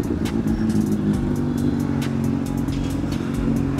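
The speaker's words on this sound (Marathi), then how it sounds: "गाडीचा आवाज ऐकून ॲक्टिवा चार्ज. ॲक्टिवाला टाकला सुपर टर्बो." Honda Activa scooter fitted with a turbo, engine droning and revving steadily during a night ride, loud and close with no talking.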